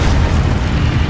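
Levioso and Depulso spells cast in Hogwarts Legacy, a dense, loud rumbling burst of magical blast effects that fills the whole moment with no pause.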